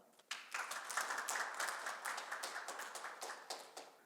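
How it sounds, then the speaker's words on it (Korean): An audience at a Korean education public hearing claps to welcome a lecturer to the stage, a burst of applause that starts suddenly and continues fairly evenly, somewhat distant and soft. "큰 박수로 모시겠습니다."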